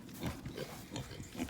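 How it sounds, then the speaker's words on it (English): A miniature pig grunts in a short series of low, close snorts and oinks, several soft bursts spread across a brief moment with no talk. "We finally got another pig."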